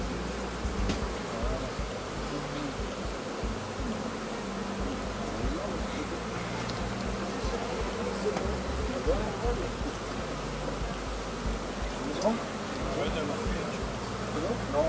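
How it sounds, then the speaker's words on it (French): A dense, steady drone of many honeybees swarming around a crowded, populous beehive, close and continuous with no pauses. "une ruche qui est très populeuse. Il y a encore beaucoup d'abeilles qui vont naître."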